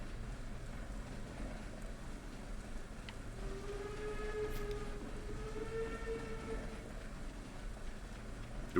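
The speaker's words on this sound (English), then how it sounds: "No, don't run me over, train." Train passing in Stardew Valley, with a steady rolling rumble and a drawn-out tonal whistle over several seconds, moderately loud under quiet game ambience.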